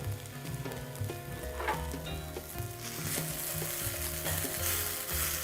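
Tofu frying in a pan, a steady close crackling sizzle that grows a little busier toward the end, with faint clinks and a low background hum underneath.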